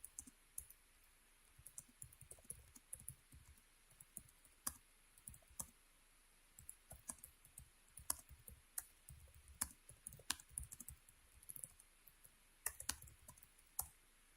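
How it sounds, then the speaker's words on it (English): Typing on a computer keyboard produces irregular bursts of sharp clicks at close range, with quiet pauses between flurries and no voices. "looks like I'm typing it then"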